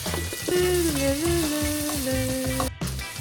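Carrots and flour frying in a pan with brandy sauce base, a steady close sizzle running throughout under a sustained musical tone, ending with a brief clatter.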